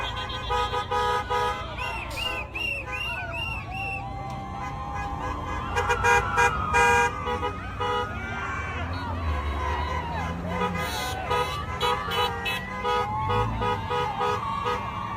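Car horns toot repeatedly in short bursts amid street traffic and crowd noise, some near and some farther off.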